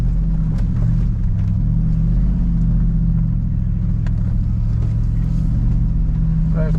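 A four-wheel drive vehicle crawling over a rough bush track, its engine a steady low rumble with faint knocks and creaks from the body, close and continuous.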